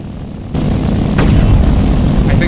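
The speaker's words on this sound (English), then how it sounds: "I think both of those guns fired" Tank cannons fire in the video game Sprocket, a heavy boom at about half a second and a second sharp blast near one second, loud and close over a continuous engine rumble.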